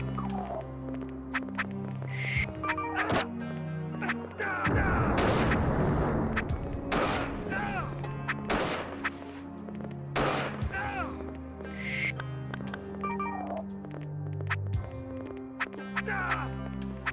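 Gunfire rings out in the video game OverBlood 2 as repeated sharp shots and heavy booms that burst over a looping electronic game soundtrack, with a loud cluster near the middle and talking mixed in.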